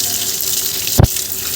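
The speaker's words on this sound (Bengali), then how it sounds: "এখানে কলের মধ্যে ফেললাম কেন বলো তো, এই মাটিটা ধুয়ে যাওয়ার জন্য" Tap water gushes briefly into a sink to wash soil off potted plants, a single short burst of running water heard close up with no talking.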